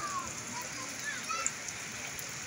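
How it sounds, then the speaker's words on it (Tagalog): Heavy rain pours steadily near a bridge and skyway in Tambo, Parañaque, a dense, even hiss with scattered splashes, heard at close range, with a voice briefly audible at moments. "lakas ng ulan"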